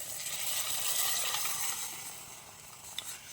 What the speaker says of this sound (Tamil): இதை அப்படியே ஊற்றிக்கிறேன்.